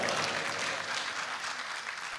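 Warm, sustained applause from a mushaira audience in Delhi greets a poet taking the stage, a steady wash of many hands clapping at close range with no voices over it.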